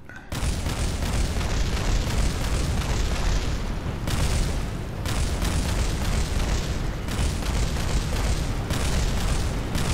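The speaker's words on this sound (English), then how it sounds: "in the background we can see the station exploding. Everything blowing to pieces." A space station blows apart in Kerbal Space Program, a loud, sustained roaring explosion with dense rumbling booms that carry on for ten seconds, with brief dips in intensity.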